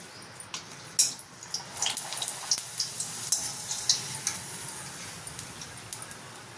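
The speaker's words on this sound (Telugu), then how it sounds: "పాపడాలు వేపుతున్నాను" Papads frying in hot oil, a steady soft crackling sizzle with scattered sharp pops and ticks, close by and fairly quiet, no talking.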